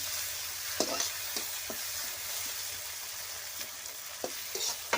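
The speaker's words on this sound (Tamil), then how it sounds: "தக்காளியும் போட்டு சேர்த்துட்டு நல்லா வதக்கி விட்டுக்கலாம்" Onion and tomato sauté in a pan for a drumstick tamarind curry, giving a continuous soft hiss punctuated by sharp spatula taps and scrapes every second or so, nearby and moderately quiet.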